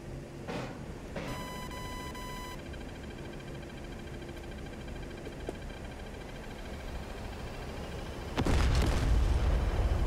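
Rockets striking targets in the DCS World flight simulator, producing a few thuds and pops. A loud, heavy explosion bursts in near the end over a steady cockpit hum and beeping tones.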